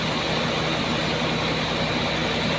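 A vehicle with a 270 engine, offered for sale, idles at a steady low rumble for the whole stretch, close and even, with no revving and no voices.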